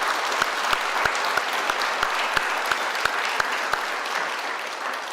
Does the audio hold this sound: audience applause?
yes